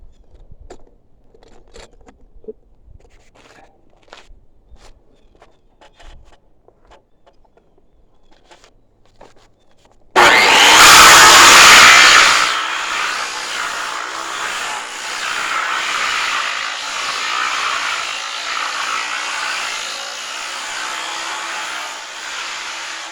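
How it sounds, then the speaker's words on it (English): A power sander on a wooden board for aged, rustic-looking boards in a house addition suddenly starts loud and close after a stretch of faint ticking, then settles into a steady rushing whir that runs to the end. "This one goes the other way, so I'll turn the board around when I sand it."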